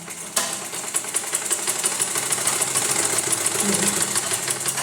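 A sewing machine runs steadily as a blouse fabric is turned over and double-stitched, its continuous mechanical whir starting abruptly and holding a busy, even rattle to the end, with no talking.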